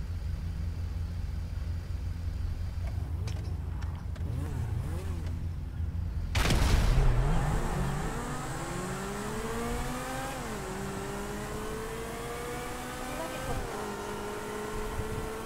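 Zentorno supercars in a Grand Theft Auto V drag race: a steady engine drone builds to a loud surge around the start, then high revving tones rise and fall with gear changes, with faint talk in the background.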